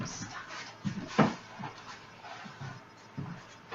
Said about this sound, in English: I have a dog on the other side of the table that's eating some paper towels.